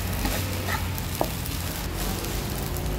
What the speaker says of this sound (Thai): ต่อไปเราก็จะลงหอมแดงนะคะกับพริกที่เราหั่นไว้นะคะ